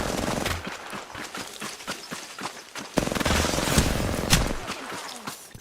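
Rapid gunfire from a Lifeline character in an online shooter game, a dense stream of sharp shots firing throughout, growing busier and louder in the second half.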